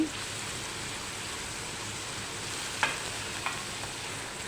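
Leafy greens from a home garden stir-frying in a pan, with a steady soft sizzle and a few sharp clicks of a utensil against the pan.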